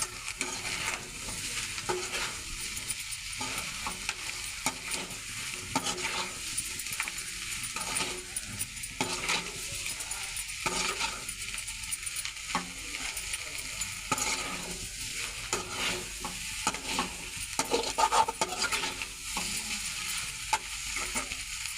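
Eggs stir-frying with chili powder in a pan: a steady, close sizzle runs throughout, broken by repeated scraping and stirring strokes over about twenty seconds, with no talking.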